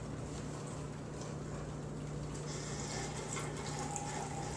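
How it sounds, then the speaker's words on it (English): Water gushing from the top of a homemade multi-stage system and dripping down through its stages, a continuous wash of splashing and trickling with a faint steady hum beneath, no talking. "the water comes gushing out the top here and drips down through the multiple stages"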